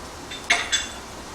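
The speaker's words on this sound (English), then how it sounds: "first just give this a stir so that it's mixed" A spoon scraping and clinking against a cooking pot while stirring onions, garlic and ginger paste, two or three short, light metallic clinks close by in an otherwise quiet kitchen.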